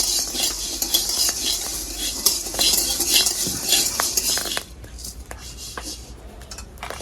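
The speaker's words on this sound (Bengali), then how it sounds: "খুব সুন্দর গম ভাজা হয়ে গেছে" Wheat grains roasting in a pan are stirred steadily with a metal utensil, giving continuous scraping and rattling over a faint sizzle, close and fairly loud, then softer in the last seconds.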